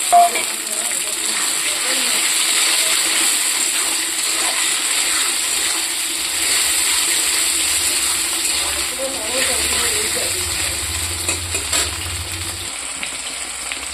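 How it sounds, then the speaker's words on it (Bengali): Chopped tomato added to onions frying in a pan, a steady close sizzle with a bright hiss throughout and faint stirring noises. "এই কাটা রাখা টমেটোটা দিয়ে দেবো।"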